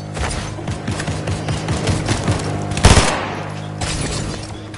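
SMG gunfire crackles in a Fortnite match as rapid bursts of shots from a distance, with one sharper, louder burst standing out near the middle over a steady game backdrop.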